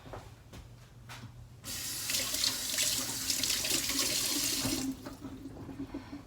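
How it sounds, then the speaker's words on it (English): Tap water gushes into a kitchen sink as hands are washed, a steady close rush of running water that starts abruptly after a few light clinks and stops near the end. "wash up my hands"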